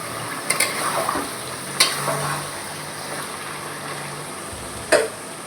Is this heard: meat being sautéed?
yes